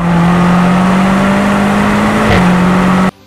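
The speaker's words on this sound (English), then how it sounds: "although this M8 delivers an impressive exhaust note" Exhaust note from the quad-tipped exhaust of a BMW M8 Competition, a steady, loud close-up engine drone that dips briefly, then resumes before cutting off abruptly.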